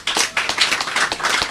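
An audience claps for Charles Boatin Okai at a gathering, a brisk, dense burst of applause from several people, loud and close.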